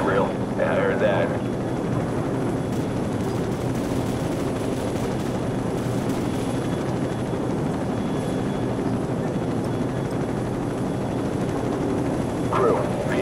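Helicopter rotor drone from the Call of Duty 4: Modern Warfare mission Death From Above, a loud continuous whirring wash that persists throughout, with brief game radio chatter and effects over it.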